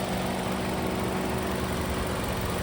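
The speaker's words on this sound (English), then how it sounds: "I can tell right away that this is a 4-cylinder engine." Steady, quiet idle from the four-cylinder engine of a Lexus NX 250, a smooth continuous low hum with a soft tonal whine, close by and with no voices.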